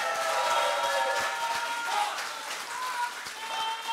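Applause from a crowd at a political party leadership rally, a steady moderate wash of clapping heard from some distance, with a few sharper claps standing out and no clear speech.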